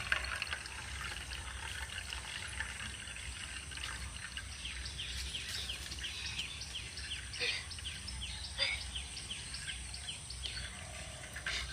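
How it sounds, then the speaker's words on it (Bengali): Water being slowly poured off from settled homemade cornflour made from potatoes, a continuous gentle trickle and splash over a steady background hiss, with no talking. "তো এবার আমি এই ওপরের জলটাও আস্তে আস্তে এইভাবে ফেলে দেব"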